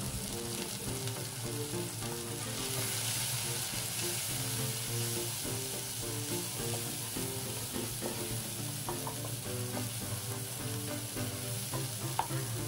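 Onion and cumin paste with garlic and spices sizzles steadily in a pan for a village-style taki fish curry, with repeated scraping stir strokes throughout, close and fairly loud, no voices.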